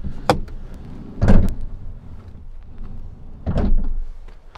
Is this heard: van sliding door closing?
yes